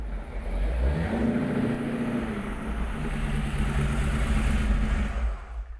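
A 1932 Ford Cabriolet Highboy hot rod pulls into a garage, its engine rumbling loud and close with a rising and falling throaty note as it arrives, and no one speaking.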